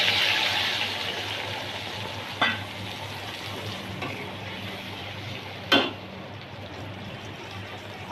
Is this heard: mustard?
yes